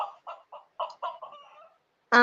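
A chicken cluck sound effect plays on request: a quick run of about seven clucks in an uneven rhythm, clear and close with no talk, then a sudden loud burst of noise at the end.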